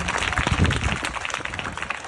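Dense, steady applause from a school audience fills the space with a continuous wash of many hands clapping at once, loud and close, with no clear gaps.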